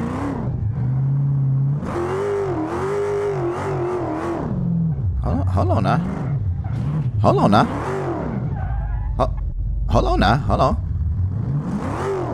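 Car engine revving and wailing in drift mode, rising and falling in pitch through repeated throttle bursts, loud and close, with someone talking over it at times.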